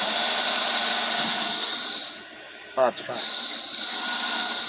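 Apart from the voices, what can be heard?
abnormal noise when pressing clutch, 2014 VW Saveiro 1.6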